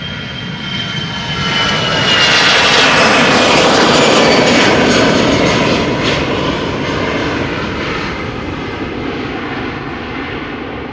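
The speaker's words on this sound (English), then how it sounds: "A320 Neo. SmartLynx flying for SAS flight 556, going to Stockholm." A SmartLynx Airbus A320neo jet airliner operating for SAS at Amsterdam Schiphol Airport roars past, its broad engine noise swelling to a loud peak and then holding a steady, slightly fading rumble, with no talk over it.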